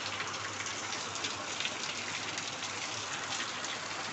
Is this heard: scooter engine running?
no